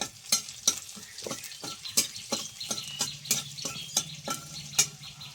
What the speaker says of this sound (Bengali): রসুনটা হালকা একটু ভাজা ভাজা হবে।